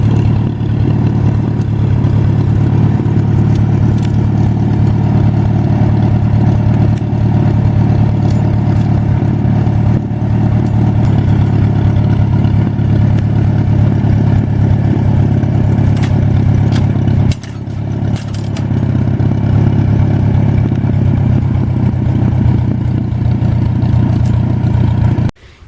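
Tractor engine running steadily and loud up close at a garden, a constant rumbling drone with clattering mechanical texture and a brief dip near the end, no one speaking.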